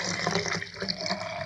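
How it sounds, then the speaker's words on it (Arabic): Water pours steadily into a container for a turmeric remedy, a close, continuous splashing rush heard alone. "لترو ديال الماء، نكبوا فيها الماء"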